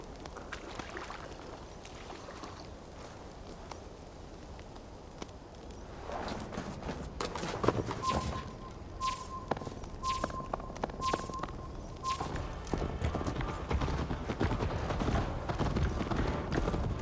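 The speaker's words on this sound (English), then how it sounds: "Best not fall off your horse." Horse hooves clip-clopping in Assassin's Creed Valhalla, a steady galloping rhythm that starts softly and grows louder and denser, with a faint tonal game sound partway through.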